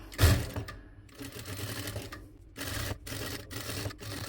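Domestic sewing machine stitching the neckline of a Dubai-style nighty, heard as stop-start bursts of rapid mechanical needle chatter with short pauses while the fabric is turned at a corner.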